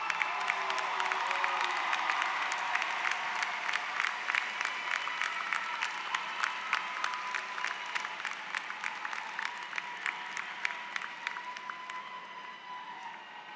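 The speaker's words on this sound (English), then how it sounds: "give them a big round of applause for all the" Audience applauding at a campus commencement ceremony, sustained dense clapping from a large crowd with sharp individual claps standing out, gradually thinning toward the end.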